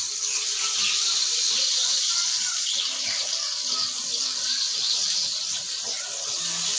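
Unniyappam batter made with jackfruit varatti is poured a little at a time into well-heated frying oil, giving a steady, close, unbroken sizzling hiss throughout with no talking.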